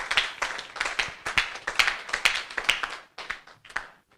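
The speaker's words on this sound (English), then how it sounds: "Let's give her another round of applause" Applause from a lecture audience at a digital humanities summer school public lecture in Lagos, a few close hands clapping in quick uneven bursts that thin out and stop after about four seconds.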